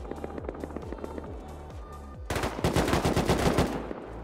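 Gunfire in the survival game Rust: a steady run of evenly spaced single shots, then a louder, faster burst of automatic fire close by, ending abruptly.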